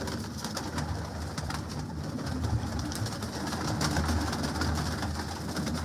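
Pigeons of Ustad Dilawar Khan's breed coo and flutter in a loft, a dense, continuous murmur of soft calls at moderate volume with no talk.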